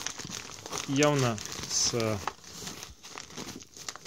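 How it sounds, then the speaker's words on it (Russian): Someone unpacks a Spinningline parcel, and a bubble-wrap protective bag crinkles and rustles in a few bursts close by. Someone talks over and between the crinkling. "я вот вижу внутри пакетик с пупырками вот такой вот"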